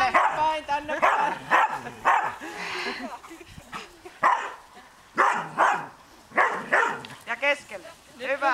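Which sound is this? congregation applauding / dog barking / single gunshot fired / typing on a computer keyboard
dog barking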